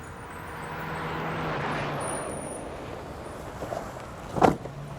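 A car sits with a low, steady background hum of engine and road ambience as people get in, then a single sharp thump near the end, like a door or body dropping into a seat.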